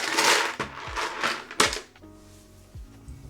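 A custom Frog Leggera mechanical keyboard clacks loudly with bursts of dense, rapid keystrokes, separated by a few heavier single key thumps, close and alone with no talking.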